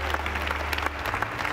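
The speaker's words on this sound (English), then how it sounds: "Congregation, let's give the Lord a big hand clap of praise." A church congregation claps in praise, a dense wash of hands from a sizeable crowd at steady moderate loudness for a short burst, with a low hum underneath.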